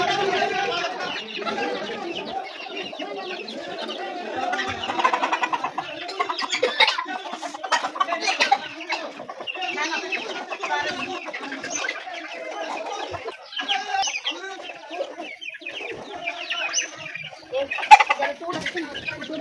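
Chickens in a Bangladeshi village household cluck intermittently through the scene, moderately close, while people talk over them.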